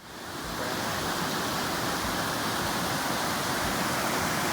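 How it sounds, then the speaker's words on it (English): Muddy Fork River running high after heavy rain, a loud, steady rushing roar of turbulent water that builds in quickly and stays constant and broadband throughout, with no voices. "I think that's part of the Muddy Fork River, and that's what all this rain has done"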